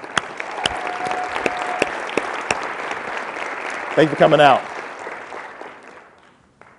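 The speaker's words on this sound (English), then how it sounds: "Art, stand up, get a round of applause" A crowd gives a round of applause at a Denver inspirational speaking event, a sustained clatter of many hands. A voice speaks briefly near the end as the clapping thins and fades away.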